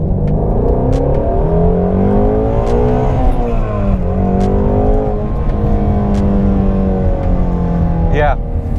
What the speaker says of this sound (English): It's so much fun taking this thing out, revving it past redline, not past redline, or up to its 8250 redline.